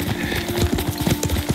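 Horse hooves clip-clop at a steady riding pace in the video game Ghost of Tsushima, close and rhythmic over a faint background hum.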